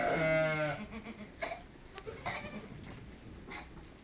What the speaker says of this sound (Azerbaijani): demək keçiləri də, çəpişləri də buraxdıq yanlarına